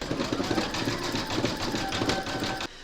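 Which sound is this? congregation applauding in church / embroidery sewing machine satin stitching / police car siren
embroidery sewing machine satin stitching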